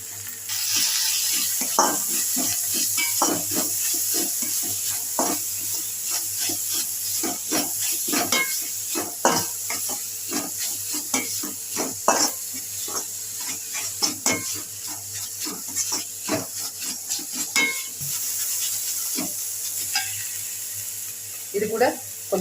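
Grated carrot filling for paneer-stuffed chapatti is stirred and sautéed in a pan, with a steady sizzle under repeated scraping and clinking of a spatula against metal, close and continuous.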